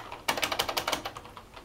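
Quick, light clicks of typing on a computer keyboard come from close by, a short burst of about a dozen keystrokes that fades away, with no voice.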